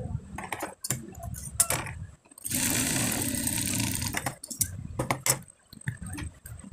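A sewing machine runs in one sustained burst of stitching for about two seconds while sewing a small child's kabli panjabi, framed by fabric handling and short clicks before and after.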